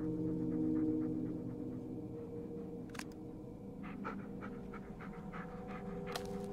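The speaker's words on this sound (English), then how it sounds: "Yeah, good dog." A dog in the Blair Witch video game pants in quick, steady breaths, close and fairly soft, with a few faint clicks and shuffles in the background.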